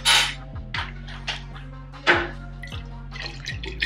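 Water sloshes and swirls inside a hookah base, giving a series of irregular splashes and drips, some louder bursts, near and clear with no talking.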